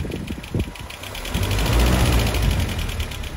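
A Land Rover Series 3 engine idles at operating temperature, a steady low rumble with a rapid, regular valve clack ticking through it, close up and alone.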